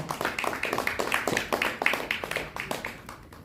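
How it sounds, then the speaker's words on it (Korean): An audience at a formal ceremony gives warm applause for an honoured guest, with a moderate, slightly distant patter of many hands clapping over a few seconds. "여러분 따뜻한 박수 부탁드리겠습니다"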